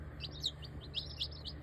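Rhode Island Red chicks in a brooder give high, thin peeps, about half a dozen quick chirps close by over a low steady hum.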